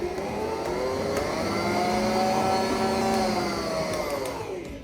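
An electric mixer whirs steadily as egg yolks are beaten into cake batter for a marble cake, a close, even motor hum that swells slightly midway and fades toward the end, with no talking.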